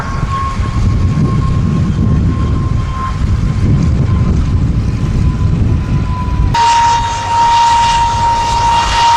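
A de Havilland Vampire FB.52 jet touches down at the Duxford Battle of Britain air show. Its loud, steady jet roar carries a sustained whine throughout, with no talk.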